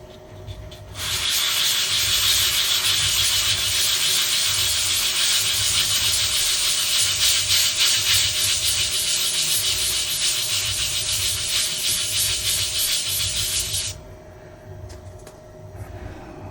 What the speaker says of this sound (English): let's try sanding it